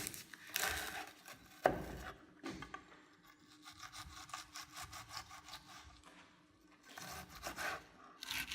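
A knife cuts through an onion on a board with repeated rasping, sawing strokes in uneven bursts, close and fairly clear, with no talking.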